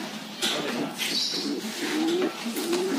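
Soft, repeated pigeon coos close by, a few low throaty calls over faint background noise.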